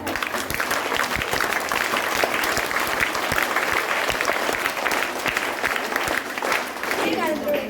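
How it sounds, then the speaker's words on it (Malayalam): A school assembly crowd breaks into steady, sustained applause for a student prize winner, with many hands clapping densely for several seconds and some voices under the clapping. "നല്ലൊരു കയ്യടി കൊടുത്തേ."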